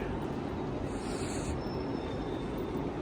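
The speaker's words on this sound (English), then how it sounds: "It's one beast of a train, isn't it?" A big train rumbles with a constant, heavy roar at a station platform, and a thin wheel squeal rises briefly in the middle over the steady noise.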